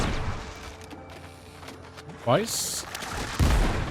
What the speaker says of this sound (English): We're going to come up and just shoot this thing point blank.